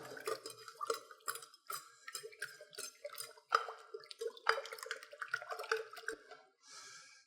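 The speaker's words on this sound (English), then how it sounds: "just pour some in there, because all you're trying to do is dissolve the salt" Water poured into a container to dissolve salt while making fermented turmeric shots, heard as a run of close splashy drips and light clinks that come and go, with no talking.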